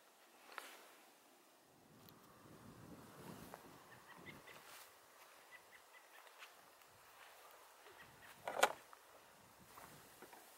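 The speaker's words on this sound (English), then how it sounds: "It's a little windy today, but not too cold" Outdoor wind gusting on a breezy day, soft uneven rushing and buffeting against the microphone, fairly faint with occasional louder bumps and a sharp knock near the end.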